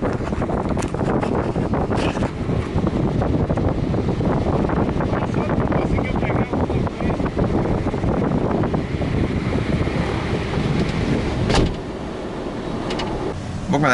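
Strong wind gusting outdoors on a fishing platform, buffeting the microphone with a constant roar as it blows open a car trunk; a brief thump near the end as the blustering continues.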